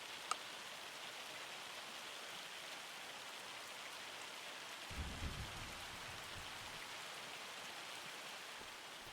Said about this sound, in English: okay, now this is just rain.